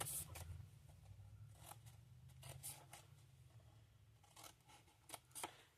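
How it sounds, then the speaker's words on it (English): Scissors cut a paper treat box along its score lines with a series of quiet, close, crisp snips at an uneven pace, alone and without speech. "Cut up on these score lines."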